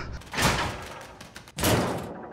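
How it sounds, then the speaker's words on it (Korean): A steel shipping container door is opened and then swung shut, two heavy bursts with a hollow metallic rumble and resonance, moderately loud with no voices. "문을 열고 닫을 때 철판 특유의 울림이 있어"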